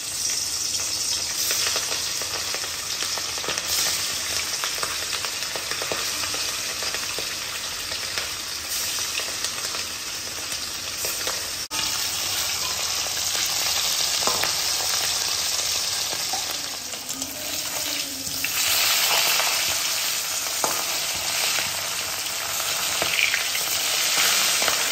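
Fish frying in mustard oil in a pan sends up a loud, steady sizzle and crackle, with occasional stirring. No talking is heard over the frying.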